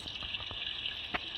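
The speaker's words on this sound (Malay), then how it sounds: "Rasanya kita mandi dulu bagi segar-segar dululah" Water runs for a shower in a Roblox game, a thin, steady hissing stream that is fairly faint, with a few soft splashes and drips.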